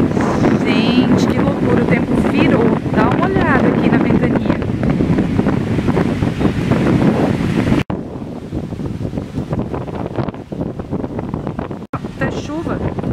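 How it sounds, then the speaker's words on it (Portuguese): Strong wind gusts roar and buffet the microphone continuously in the Pantanal, Mato Grosso do Sul, as the weather turns stormy, loud and rough, with a brief dip in the middle before the blustering resumes. "Dá uma olhada aqui na ventania."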